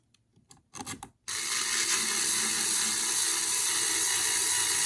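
A screw is driven into an HPI Racing RS4 Sport 3 RC car: a few short clicks and scrapes, then a steady, loud grinding rasp that continues to the end, close up and with no talk.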